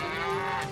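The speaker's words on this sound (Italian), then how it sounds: "Sembra che qualcuno abbia lasciato aperto il cancello e che le mucche siano sopra ai binari" A single short, steady moo from a cow standing on railway tracks in a Thomas the Tank Engine cartoon, close and clear with no talk.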